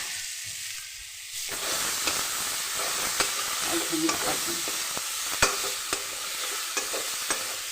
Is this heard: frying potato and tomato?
yes